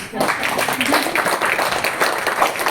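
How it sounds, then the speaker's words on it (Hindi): Audience applause at a talk honoring a guest, Narhari Pandya: a steady, dense wash of clapping from many hands that lasts throughout, with voices murmuring underneath. "ताली बजाएं इनके"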